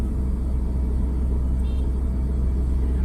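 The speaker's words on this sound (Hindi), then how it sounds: "अभी हम लोग सेकेंड गियर में कार को चला रहे हैं" A car rolls along in second gear, a steady low engine rumble and road noise close up inside the cabin, even and unbroken throughout.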